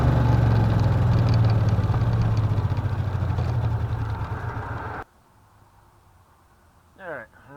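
An engine runs loud and steady with a deep rumble and hints of rising throttle, then cuts out abruptly midway, leaving near silence and a brief voice-like sound near the end.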